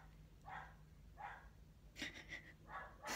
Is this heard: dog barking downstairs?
yes